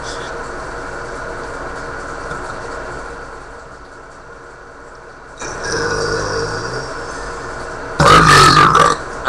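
A loud, brief burp bursts out near the end, after a stretch of low room noise and a muffled shuffle.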